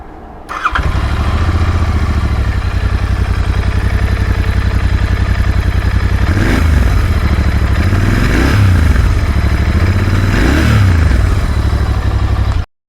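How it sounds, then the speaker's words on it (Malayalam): Royal Enfield Continental GT 650 twin-cylinder motorcycle with its stock exhaust starts up close by, then idles loud and steady with a few blips of the throttle rising and falling. "ഞാനിതിൻ്റെ സ്റ്റോക്ക് എക്സോസ്റ്റ് നോട്ട് നിങ്ങൾക്ക് കേൾപ്പിക്കാം."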